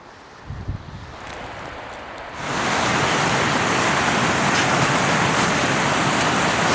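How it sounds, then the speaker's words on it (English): Iraq's highest waterfall, about 1,800 meters above sea level, its roar surging in after a couple of quiet seconds with faint handling noise, then holding as a loud, unbroken rush of falling water. "Made it to Iraq's highest waterfall."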